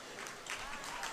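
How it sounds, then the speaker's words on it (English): Volleyball fans at a women's college match between FMU and Catawba cheer and clap, a broad steady crowd roar heard from a distance through the gym. "fans cheer as Kylie Morgan gets up and is aided back to"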